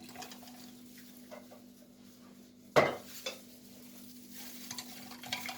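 A spoon stirs baking soda and lemon in a glass of water, scraping and clinking steadily and quietly, with one sharp knock against the glass partway through.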